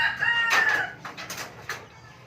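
A rooster crows nearby, followed by a few short clucks from chickens, fairly clear against a quiet background.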